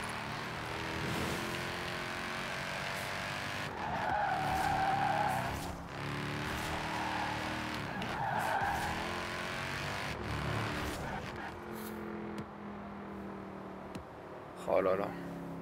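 A Mercedes-AMG E63 S drifting in the racing game Forza Horizon 4: a continuous engine roar with long squealing tire skids that rise and fall, plus a sharp burst near the end, while someone talks over it.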